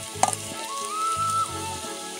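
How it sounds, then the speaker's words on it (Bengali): Potatoes fry with salt and turmeric in hot oil, giving a soft, steady sizzle. A few quick clacks of stirring come near the start, and a thin ringing tone lingers through the middle. "দেখো নুন হলুদ দিয়ে ভালো করে আলুগুলোকে ভেজে নেব।"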